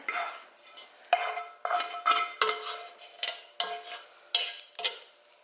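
A spoon scraping and clinking against a pan as it pushes steeped herbs aside, a series of about eight distinct metallic scrapes in an irregular rhythm, close and clear with no talk.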